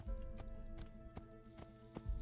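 Horse hooves clip-clop in Assassin's Creed, a steady run of about six hoof strikes at close range over a low rumbling game backdrop, with no talk.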